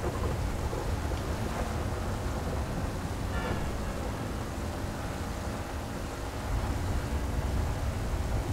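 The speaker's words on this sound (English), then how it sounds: "The game looks so cool with rain at night." Rain and thunder at night in GTA 5, a dense steady wash of rainfall with low rumbling thunder rolling underneath, loud and continuous throughout, without any voices.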